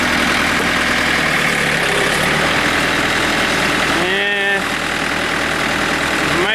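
A tractor engine, a 110 TLB, revs up to drive a wood chipper, a loud steady roar of heavy machinery throughout with a brief rising whine partway through, with some speech mixed in.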